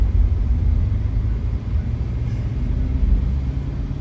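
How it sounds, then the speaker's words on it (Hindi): A vehicle driving off-road on the way to a jungle safari, a heavy, steady low rumble of the engine and tyres from inside the cabin, loud and continuous without pause. "ऑफ रोडिंग स्टार्ट कर दिया है वहाँ पहुँचने के लिए।"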